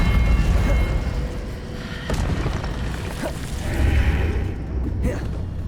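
A Confringo spell exploding in Hogwarts Legacy on Switch, a loud booming blast with whooshing bursts amid continuous game effects, with a voice shouting spell names over the action.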